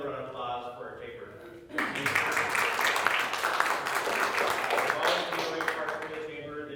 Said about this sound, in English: I'd like to give another round of applause for our chamber.